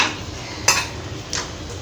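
A cooking pot of drumstick (sajna data) curry is lifted off the stove, two short metallic clanks of pot against burner or utensil over a low background hum, close and alone.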